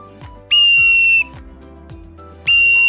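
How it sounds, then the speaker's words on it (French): A referee's whistle gives two loud, piercing blasts, the first held for about two-thirds of a second and the second starting just before the end, with soft thumps and clicks between them and no talk. "Bon, on vient de siffler."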